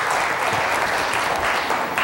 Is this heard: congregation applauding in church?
yes